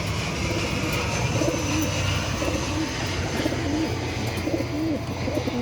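Kaldum pigeons, a fancy pigeon breed kept in a home loft, cooing in repeated soft low warbles over a steady background hum.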